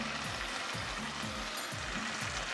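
Meatball sauce sizzles and fries in a pan, a steady close crackle with soft stirring scrapes recurring every half second or so, and no voices.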